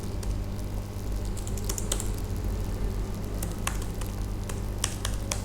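Close, steady clicking of fingers typing a phone number on a computer keyboard, with quick irregular keystrokes over a faint background hum and no speech.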